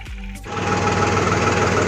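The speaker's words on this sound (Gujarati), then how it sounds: "તો અત્યારે હું ટ્રેક્ટરમાં બેઠો હોઉં ને પંખો જો અત્યારે ચાલુ કર્યો" An electric fan switched on inside a tractor cabin gives a steady, loud mechanical whir with a rattling buzz, following a brief low thump at the start and continuing unbroken with no talk.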